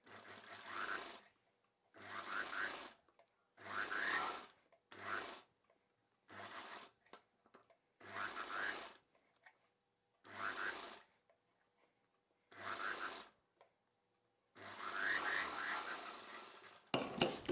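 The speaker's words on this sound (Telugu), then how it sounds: "తీసుకున్న ఈ పీస్ని చివరన అంచుని ఫోల్డ్ చేసి కుట్టు వేసేసుకోవాలి." A sewing machine stitches the folded edge of a cotton frock neck piece in repeated bursts of rapid mechanical whirring, each lasting about a second, separated by short pauses.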